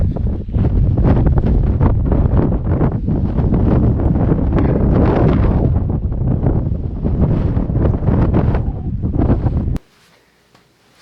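Strong gusts of wind buffeting a microphone outdoors at a hilltop, loud rumbling roar that cuts off abruptly near the end.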